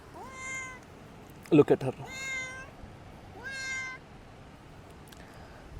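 A house cat meows several times, drawn-out tonal calls spaced across the clip with a brief clatter in between, close and clear over a quiet room, with a person speaking briefly.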